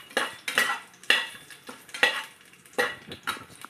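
Whole spices such as cinnamon, star anise and cloves are stirred in a pan for mutton biryani, giving a series of sharp metallic scrapes and clinks in an uneven rhythm, close and fairly quiet, with no steady sizzle.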